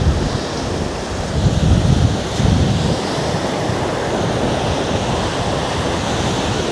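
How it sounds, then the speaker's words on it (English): Ocean waves roll onto Costa Mujeres beach in Cancun, Mexico, a continuous broad wash of surf mixed with wind buffeting the microphone, loud and close with no voices. "And this is the Costa Mujeres beach."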